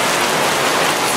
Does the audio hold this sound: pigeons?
no